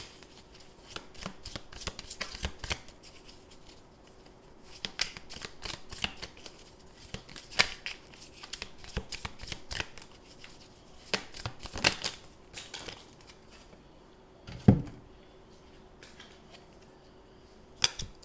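Tarot cards are riffled and shuffled repeatedly, with crisp bursts of card flutter in quick runs and one sharper slap as cards drop, close and clear with no talking.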